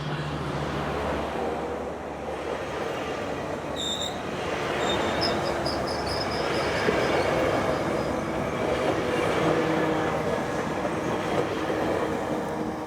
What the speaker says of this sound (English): I'm gonna let the train go by.